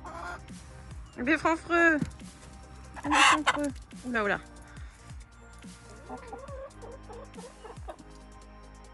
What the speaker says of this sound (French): il y a une poule dans ma gamelle